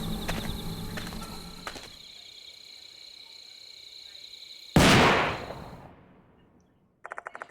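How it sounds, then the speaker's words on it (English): A single loud gunshot in the horror video game Death Mark 2, set on shrine grounds. It cracks sharply mid-clip and rings out in a long, fading reverberation over a faint musical tone. "Suddenly, the sound of a gunshot rings out and reverberates through the shrine grounds."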